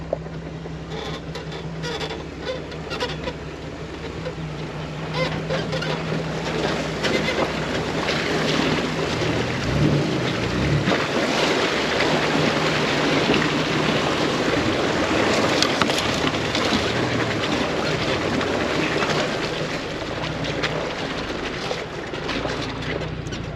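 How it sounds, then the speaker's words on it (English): A 2006 Jeep Wrangler Rubicon fords a river crossing, with a continuous broadband rush of water and engine rumble, steady and loud throughout, with a brief low thump near the middle and no talking. "we're back at the river crossing, and let's go over it"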